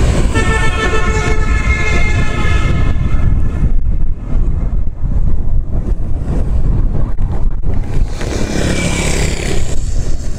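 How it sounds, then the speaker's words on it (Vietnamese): Strong wind gusts buffet the microphone on a busy street in District 7, Saigon, around Nguyen Thi Thap and Phu My Hung under dark storm clouds, a steady loud rushing roar with traffic noise and a horn mixed in. "Chính vì gió cũng mạnh cho nên là khó mưa"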